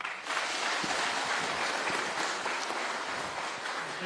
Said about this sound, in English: Kindly let's give our chief guest a better clap.